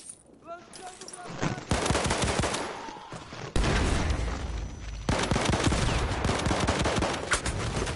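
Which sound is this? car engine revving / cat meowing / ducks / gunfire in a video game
gunfire in a video game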